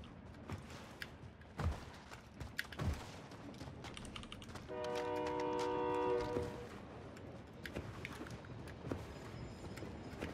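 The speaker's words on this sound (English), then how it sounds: "I'm using this train to push up." A moving train in the Call of Duty Warzone video game rumbles along at low volume, with a sustained horn-like tonal blast rising over the rolling noise for a couple of seconds midway, under scattered game sounds.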